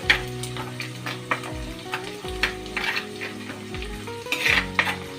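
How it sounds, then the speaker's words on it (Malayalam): Garlic and ginger frying in oil for a pomegranate pickle, with a steady sizzle broken by repeated scraping stirs of a utensil against the pan, close and fairly loud, with no talking. "വെളുത്തുള്ളി ഇഞ്ചിയും ഒന്ന് നല്ലവണ്ണം മൂത്ത് വരണം."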